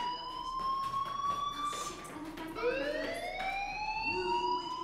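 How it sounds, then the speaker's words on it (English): A fire alarm rings in the Life is Strange video game, a loud sustained electronic tone that holds, then drops and rises again in a sweeping wail, alone with no talk. "Hey, do you hear that fire alarm?"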